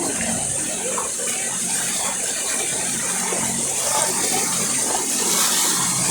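Steady rushing, splashing water from a speeding boat in Budapest, loud and close, with a continuous spray that holds evenly throughout.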